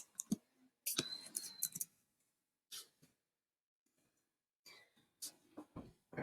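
A computer mouse clicks in a few short, sharp bursts between quiet gaps, mixed with faint breathing and small mouth sounds nearby.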